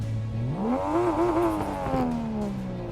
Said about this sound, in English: that car does not sound like it should